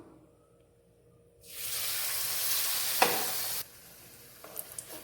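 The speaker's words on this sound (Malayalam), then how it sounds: "നമുക്കിനി ബ്രെഡ് എടുത്തിട്ട് ഈ മാവിലിങ്ങനെ മുക്കി നമുക്കിതൊന്ന് പൊരിച്ചെടുക്കാം" Bread dipped in batter drops into hot oil in a pan and fries with a loud, steady sizzle for a couple of seconds, then settles to a quieter crackle with small pops.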